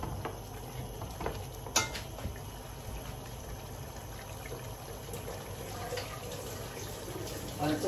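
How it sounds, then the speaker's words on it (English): A kitchen tap runs for handwashing, a faint steady trickle and patter of water with small splashes and a brief clatter, close by, and no one speaks. "I have to wash my hands"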